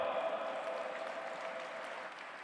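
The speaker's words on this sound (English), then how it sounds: "Please put your hands together and welcome with a round of applause, Dr. Keynote Diop." Audience applause at an interfaith summit event, a steady wash of many hands clapping at once, fairly loud and continuous before fading slightly toward the end, with no talking over it.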